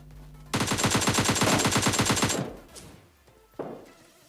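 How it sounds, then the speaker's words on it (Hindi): Automatic gunfire in PUBG Mobile Lite, a loud rapid burst of about two seconds with evenly spaced shots, followed by quieter distant rattles and one more sharp shot nearby. "लेकिन मुझ पर कहीं और से फायरिंग होती है"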